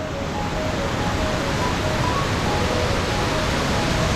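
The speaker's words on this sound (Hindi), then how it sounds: "वो देखो कितना बड़ा वाटरफॉल है" Large waterfall on a Himalayan mountain trek to Kheerganga, a steady loud broadband roar of falling water that fills the whole clip without pause, no voices over it.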